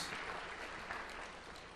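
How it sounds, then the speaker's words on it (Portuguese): A church congregation applauds during a Sunday worship service that includes a baptism, a soft, even wash of clapping heard from a distance and steady throughout. "Uma salva de palmas ao Senhor."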